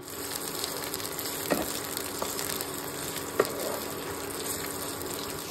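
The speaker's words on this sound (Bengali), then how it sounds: "কড়াই সাদা তেল গরম করতে বসিয়ে দিয়েছি। এবার এতে ফার্স্টেই দিয়ে দেব পেঁয়াজ কুচি।" Chopped onion fries in hot white oil in a wok, giving a steady moderate sizzle with a couple of brief clinks from stirring, close and without talk.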